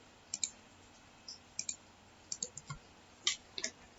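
Mouse clicks in AutoCAD come as faint, sharp single and double clicks scattered irregularly over a low background hiss, close but quiet.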